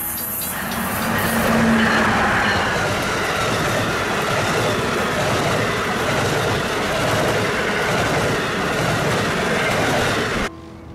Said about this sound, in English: With a regional train travelling south.